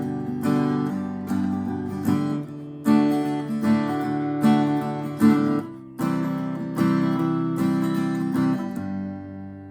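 Acoustic guitar strumming a country song pattern, steady down-up strokes with accented chord changes every second or so, close and clear with no voice.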